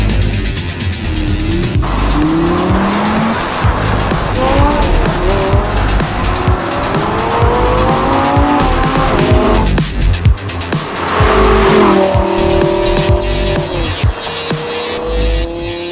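A Lamborghini Gallardo LP 550-2 Valentino Balboni edition driven hard, its engine revving loudly through repeated rising gear pulls with tire squeal and skidding, close and sustained throughout.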